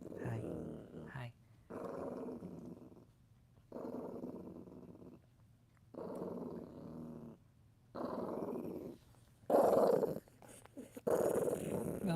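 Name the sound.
dog growling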